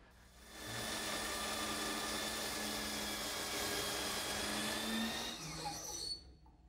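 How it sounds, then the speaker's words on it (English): Bandsaw fitted with a 3-inch wide resawing blade, slicing thin strips of cherry wood: a steady, close whine and rasp that holds for about five seconds, then tapers off as the cut finishes. "This 3-inch wide resawing blade in my bandsaw is the perfect tool for cutting thin strips of wood like these."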